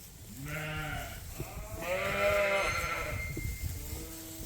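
Sheep on a farm during lambing season bleat in several close, wavering calls, one short and then a longer drawn-out one, with faint farmyard background noise.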